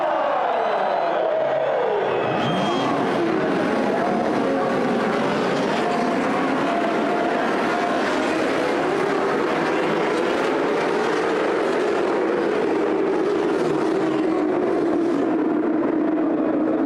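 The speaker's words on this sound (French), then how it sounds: "C'est ça, les 24 heures du Mans moto" Racing motorcycles at the 24 Hours of Le Mans motorcycle endurance race roar in a loud, continuous wash of engine noise, with pitch sweeping as bikes pass, over a constant crowd and ambient rumble.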